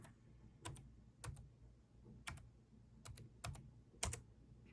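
Password keys tapped on a computer keyboard while entering a Wi-Fi network key: short clusters of crisp clicks with pauses between them, close and fairly quiet, with no talking.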